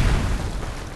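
A Semtex grenade detonates in Call of Duty: Modern Warfare 3, giving a loud, close, single booming blast with a heavy low rumble that decays over about a second.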